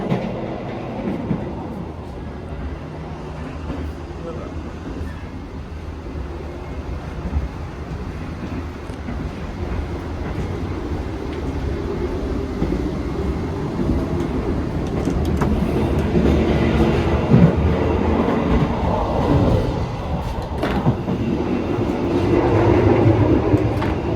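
Gaya Baru Malam Selatan economy passenger train running steadily on rails, heard from inside the dining car as a continuous low rumble with faint rhythmic clatter, growing slightly louder over time.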